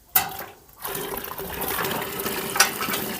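Homemade grape molasses (pekmez) pours steadily, a continuous liquid splash and trickle that starts abruptly, pauses briefly, then runs on fairly close with a small bump near the end.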